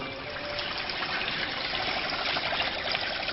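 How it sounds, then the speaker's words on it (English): Water runs steadily into a basement floor drain, a continuous gushing trickle close by and fairly loud, with no talking over it. "you can see the water running in through here"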